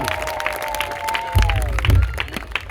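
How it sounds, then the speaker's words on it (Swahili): A church congregation claps in applause for Jesus during a worship service, a crowd of hands rising in scattered bursts while a preacher's voice carries over the start. "makutano tumpigie Yesu makofi"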